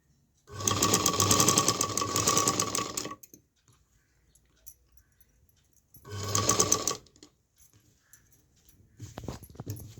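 Sewing machine stitching piping onto a blouse edge: two bursts of fast, loud mechanical whirring, a long one then a short one, with quiet pauses and light handling noise between.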